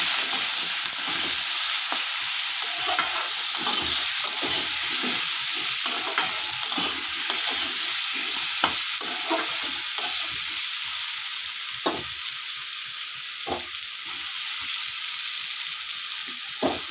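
Potatoes fry in a pan for a vegetarian paneer masala, browned until reddish; a continuous loud sizzle runs throughout, broken by repeated scraping clicks of a utensil stirring them.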